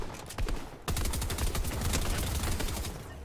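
Combat SMG gunfire in Fortnite, a loud sustained burst of rapid shots after a brief quieter stretch of scattered fire.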